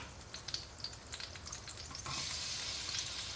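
Minced garlic sizzles in melted butter in a skillet, a soft close hiss with light pops that swells into a brighter, louder fry partway through.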